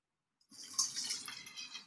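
After a moment of silence, water is poured into a bowl for rinsing, a light splashing trickle that swells quickly and continues unevenly, close and fairly quiet.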